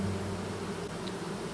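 A swarm of honey bees being collected into a box in August drones in a dense, steady buzz with layered hum tones, close and continuous with no voices.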